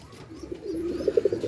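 Racing pigeons resting in a breeding loft coo in a low, throaty rhythm, the calls swelling into a run of distinct pulses toward the end, close and fairly loud over a soft background hum.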